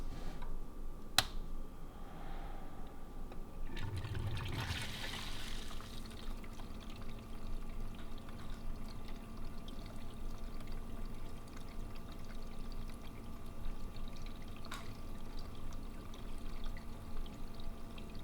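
Distilled water flushes through a PC custom water-cooling loop with a steady, continuous trickling pour. A short, louder splash comes early, with faint ticks over the flow and no voices.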